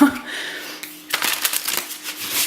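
Someone shuffles a deck of light-themed oracle cards close by, a quick burst of riffling and flicking sounds that follows a brief pause.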